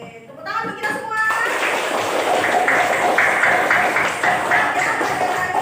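A classroom of pupils bursts into steady, loud group clapping after a teacher's brief spoken lead-in. The clapping keeps a dense, even roar for several seconds without letting up.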